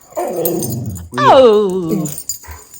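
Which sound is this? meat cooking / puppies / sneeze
puppies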